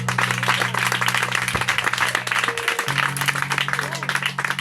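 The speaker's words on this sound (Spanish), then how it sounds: "¿Cuántos pueden dar un aplauso al Señor?" Congregation applauding at a church retreat service, steady dense clapping throughout, with a sustained musical tone underneath.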